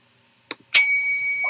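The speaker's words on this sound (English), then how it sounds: "Oh, I can ring the bell." A service bell in a video game hotel lobby gives a short tap, then one bright, clear ding that rings on and slowly fades, loud and alone.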